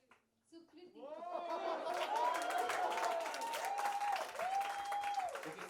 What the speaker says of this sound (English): Big cheer for Bhavi, Ishita, and Sukriti.